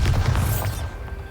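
A Bombarda explosion spell cast in Hogwarts Legacy, one loud deep boom with a crackling burst that swells briefly then trails off into a fading rumble.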